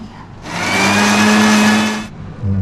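Mixer grinder whirring through dosa batter of rice, dal and coriander, a loud steady motor burst lasting about a second and a half before cutting off, close and alone.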